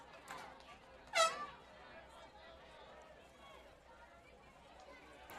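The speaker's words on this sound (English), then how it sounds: "I've heard that air horn several times." A short blast of an air horn at a high school football game cuts through distant crowd chatter, brief and fairly loud against the steady murmur.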